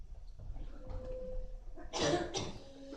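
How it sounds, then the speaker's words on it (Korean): Two sharp coughs close by, one right after the other, following a few seconds of quiet breathing and faint room noise. "저는 며칠째 기침이 끊이질 않아요."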